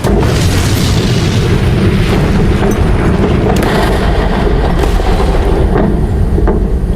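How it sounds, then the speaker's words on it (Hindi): A SpaceX Falcon 9 rocket exploding during a test fire, a very loud, continuous, booming roar that fills the whole stretch with a dense rumble, with no voices. "एक SpaceX Falcon 9 रॉकेट को एक कम्युनिकेशन सैटेलाइट को लॉन्च करना था, मगर वो टेस्ट फायर में ही नष्ट हो गया।"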